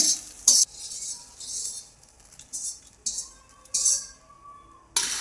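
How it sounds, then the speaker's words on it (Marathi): A spoon stirs a fried fasting chivda mixture in a pan, giving crisp rustling, scraping bursts that come in uneven strokes, with short pauses between them. "हे मिक्स करून घ्यायचे एकत्र"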